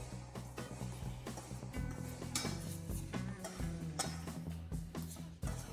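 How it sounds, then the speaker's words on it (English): Flour and baking powder for a carrot cake being mixed in a bowl: repeated close clinks and scrapes of a utensil against the dish, in an uneven rhythm with a low hum underneath. "And now we just have to mix it together."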